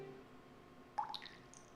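Water drips echo in a cavern in the Zelda: Ocarina of Time video game, a few faint, quick plinks with a short reverberant tail, heard alone against a quiet background.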